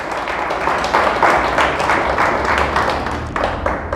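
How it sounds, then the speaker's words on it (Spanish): A church congregation claps together in steady, sustained applause that fills the room without a break. "Dele fuerte el aplauso al Señor."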